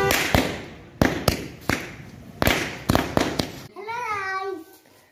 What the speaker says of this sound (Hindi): पटाखे में आग लगाते हुए मनाते हुए